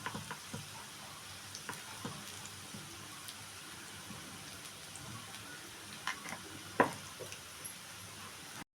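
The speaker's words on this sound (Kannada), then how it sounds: "ಸ್ವಲ್ಪ ಇದು ನೊರೆ ಹೋಗೋವರೆಗೂ ನಾವು ತಿರುವಕ್ಕೆ ಹೋಗ್ಬಾರ್ದು ಅದು ಸ್ವಲ್ಪ ಬೇಯ್ತಾ ಇರಲಿ" Spinach (palak) bajji fry in hot oil, a quiet, steady bubbling sizzle with occasional small pops and a brief clatter near the end.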